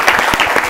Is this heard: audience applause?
yes